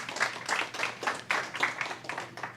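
An audience at a school board meeting claps in a series of separate, regularly spaced bursts, each swelling and fading, moderately loud and fairly close.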